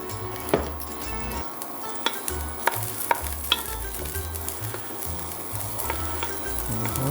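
Garlic frying in olive oil in a pan for Italian mussels, a continuous crackling sizzle with scattered pops and occasional utensil taps, close and moderately quiet, no voices.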